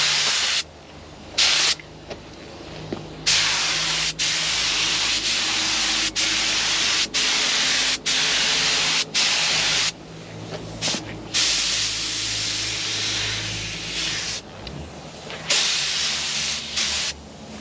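A paint spray gun lays base coat on Holden Commodore body panels in repeated hissing bursts of a second or more, each cut by short pauses, loud and close.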